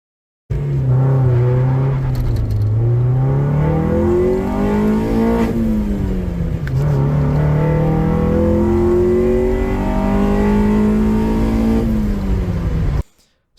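A car running newly fitted Rebelspeed parts drives and accelerates hard, its engine note rising through several revving pulls with gear changes between them, loud and close with no talking.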